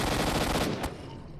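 Rapid automatic gunfire in the shooter game STALKER: Shadow of Chernobyl, a dense continuous burst of shots that thins out after about a second, heard without talk.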